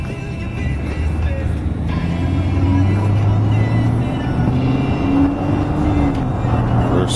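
A 2004 Kia Sorento on the move, a steady engine and road rumble heard from inside the cabin with shifting low engine tones, loud and continuous.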